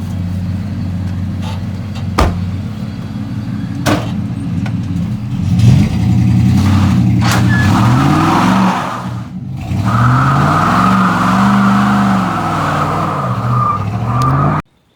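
A 1951 Studebaker Commander V8, parked for decades, revs hard while its tires spin and squeal on a slick driveway, the engine note rising and falling in repeated surges, close and loud throughout.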